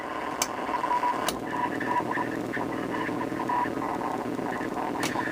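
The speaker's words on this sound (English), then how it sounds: "Alright, we're in the ham band now. We're getting some Morse code." Morse code on the ham band from a Hammarlund SP-600 receiver: faint intermittent tone beeps sit inside steady loud static and hiss, with a few sharp clicks.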